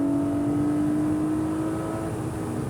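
A Porsche 718 Cayman GTS 4.0 drives a track lap, its engine a loud, close, sustained drone holding a fairly steady pitch throughout.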